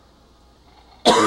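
A sudden cough bursts out loud and close after about a second of near silence, a harsh single burst with a rough, throat-clearing tail.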